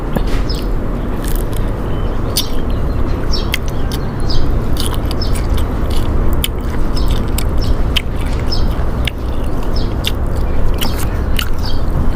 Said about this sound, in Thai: เดี๋ยวว่าให้มากินตาปลาทูหน่อย